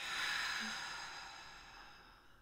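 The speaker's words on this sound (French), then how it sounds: "prendre de grandes respirations par le nez et expiration par la bouche" A slow, deep breath drawn in through the nose and released out through the mouth, one soft, airy exhale that fades gradually, close and alone.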